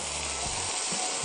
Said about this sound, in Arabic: وننزل بيه على النار كده ونقلب